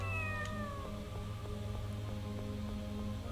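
A cat meows in the Tales of the Abyss video game, sounding repeatedly over a dense bed of game music and ambient layers that stays loud throughout.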